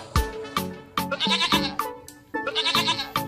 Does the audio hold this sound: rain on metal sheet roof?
no